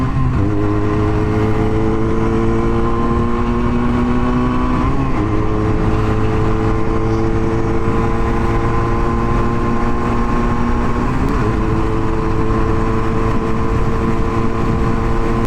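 A Regal Raptor Pilder 125 motorcycle is ridden with a loud, steady engine drone close to the microphone. The pitch climbs smoothly through the gears, drops at each shift and climbs again, all over constant rushing wind noise.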